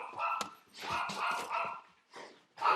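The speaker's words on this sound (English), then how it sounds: "Sorry, my dog's going crazy." A dog barks and yips excitedly nearby in a home, several loud overlapping barks in quick bursts with short pauses between them.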